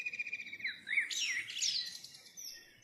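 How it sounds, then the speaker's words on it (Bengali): Birds chirp outdoors in a place full of animals and birds, a few clear whistled calls that rise and fall, sounding fairly close against a quiet background, with no speech. "পাখির কিচিরমিচির ছাড়া তো কিছুই শোনা যাচ্ছে না।"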